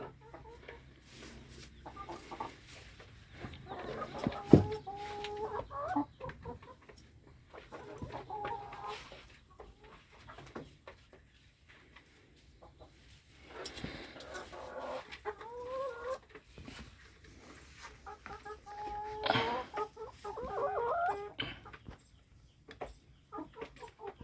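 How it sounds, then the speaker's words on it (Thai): Laying hens on a small farm flock of about twenty birds cluck in repeated bursts through the clip, fairly close and moderately loud, with no talk over them. "ไก่ผมน่ารักไหม"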